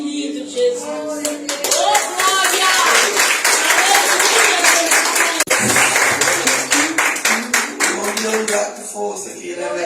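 A church congregation bursts into dense, sustained applause at an evening worship service. Many hands clap loudly and continuously for several seconds, with a voice carrying over the crowd and the claps thinning out toward the end.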